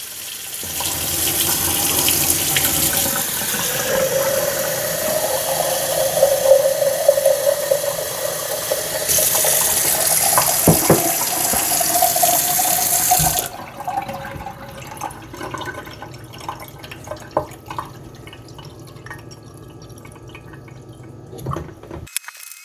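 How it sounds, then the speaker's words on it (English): Cold water runs from a kitchen sink tap in a steady, loud gush for about thirteen seconds, then cuts off, leaving faint drips and small knocks in a quiet room. "And I'm just going cold water on the tap."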